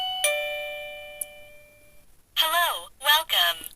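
Chime tone from a wireless USB doorbell, a single bright electronic ding that rings out and decays, followed by a short burst of synthetic recorded speech from the unit.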